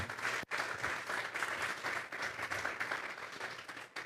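A church congregation applauds during a service, a continuous dense clapping that fills the room, briefly dipping near the start and then carrying on steadily.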